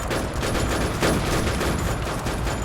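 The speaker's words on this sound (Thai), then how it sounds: "แต่ทำไมเขายิงเร็วกว่าเราวะ ทำไมเขายิงเร็วกว่าเรา" Gunfire in the video game Minecraft WarZ comes as a dense, continuous, rapid volley of shots that stays loud across the whole span, with no talking over it.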